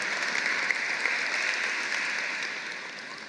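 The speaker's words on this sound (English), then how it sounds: "Make sure give a round of applause" Applause from the audience at the Carl B. Stokes Day ceremony, a steady wash of many hands clapping that holds even and fairly loud for a few seconds, then eases slightly toward the end.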